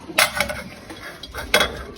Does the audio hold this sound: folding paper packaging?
no